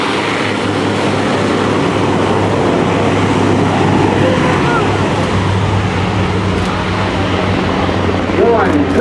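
A C-130J airdrop aircraft passes over during a combined arms demonstration at a Rhode Island airshow, a loud, broad, steady roar filling the whole stretch, with announcer talk heard faintly beneath it.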